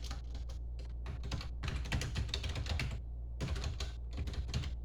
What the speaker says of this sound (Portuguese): Tô digitando um negócio aqui.